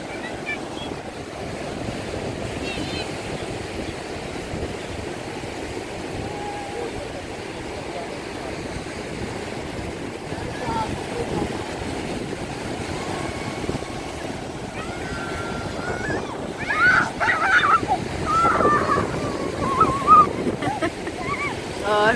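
Sea waves washing onto the beach at The Hague, a steady rush of surf with wind noise on the microphone throughout, growing louder and choppier near the end, with people talking and moving nearby.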